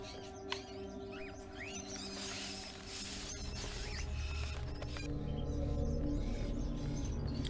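Cartoonish crow calls from the video game Fahrenheit: Indigo Prophecy, a series of short chirpy squawks over a steady ambient bed that grows louder toward the end, with no talking.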